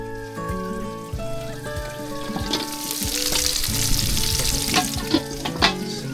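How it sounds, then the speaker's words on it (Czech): Food sizzles and crackles steadily in a pan at a campsite, close and continuous under light background music, with scattered pops and stirring clinks. "Smaží."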